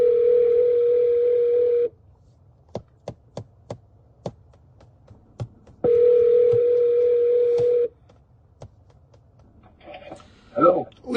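Telephone signal tones of an incoming call: two long steady ringing bursts separated by a pause, with sharp taps and clicks between them and a voice starting up at the end.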